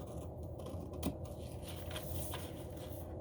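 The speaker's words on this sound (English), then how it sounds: "have fun watching me cut out this paper pattern" Fabric scissors cut out a paper pattern for a tote bag, a close, steady run of soft snips and crisp paper scraping with no talking.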